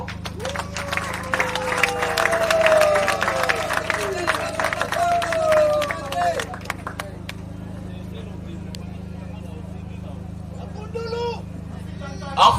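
An audience claps and cheers loudly with shouts and whistles at a political party's first-anniversary rally, the noise fading after several seconds into a quieter hall with a steady electrical hum.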